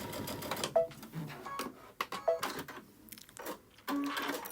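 A sewing machine stitches fabric in short, quiet bursts, pausing and restarting several times in a hushed room.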